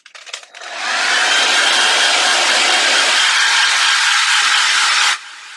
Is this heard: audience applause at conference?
no